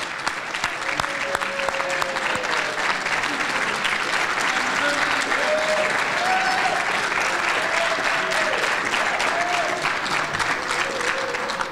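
Sustained applause from an audience honoring award nominees at a chamber of commerce awards event, dense and steady throughout with some faint voices mixed in.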